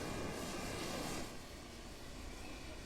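A small aircraft taking off from runway 30, a broad steady engine roar heard at a distance that eases slightly partway through, with no voices.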